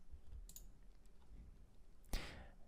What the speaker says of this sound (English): I'll click on the light bulb, and then I'll click on move type to iItems repository.cs